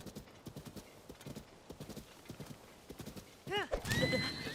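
A horse in Zelda: Tears of the Kingdom trots with steady clip-clopping hooves, then lets out a loud, close whinny near the end as a burst of other game sounds rises.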